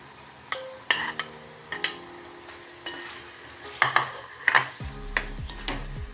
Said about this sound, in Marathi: त्याच्यामध्ये आता आपण भेंडी घालून घ्यायची